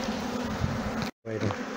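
Honeybees buzz in a dense, close hum while a colony is shifted from a nucleus box into its permanent hive box, broken by one brief gap of silence.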